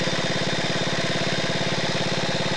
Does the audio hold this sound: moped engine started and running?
yes